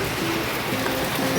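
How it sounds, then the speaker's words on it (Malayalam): Heavy rain pours steadily outside, a dense, even hiss of falling water with no pauses, filling the whole moment without any voices. "നല്ല അടിപ്പം മഴ പെയ്തുകൊണ്ടിരിക്കുക പുറത്ത്"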